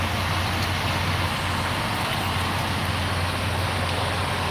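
Truck engine left running, a steady low idling drone that holds constant and fairly faint for the whole stretch, with no voices.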